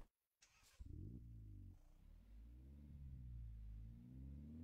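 Volkswagen Saveiro pickup engine starting and then running, a low rumbling idle with a couple of revs that rise and settle, close and steady with no talking.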